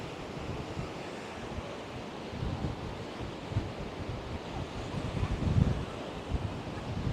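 Steady blustery wind buffets the microphone on the Blackpool seafront, with surf rolling faintly underneath and occasional louder gusts; no voices.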